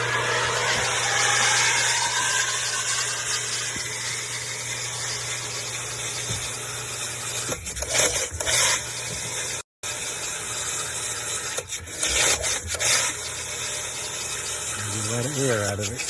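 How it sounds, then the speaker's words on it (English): Electric water pump starting up to move harvested rainwater for garden irrigation, humming steadily with gushing water and sputtering bursts as air clears, along with handling noises and a rising whine near the end. "Plug in the pump."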